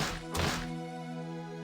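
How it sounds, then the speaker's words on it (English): A single heavy bang against the VIP room door in the visual novel game Umineko, one short dull thud rising briefly over a quiet background. "As Jessica yelled with all of her strength, she hit the door to the VIP room."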